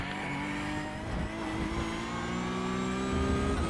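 A race car engine in the iRacing sim revs steadily at high pitch and shifts up through the gears, loud and continuous, with faint tire noise underneath.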